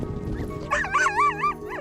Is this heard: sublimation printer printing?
no